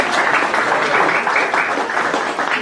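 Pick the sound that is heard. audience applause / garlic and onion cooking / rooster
audience applause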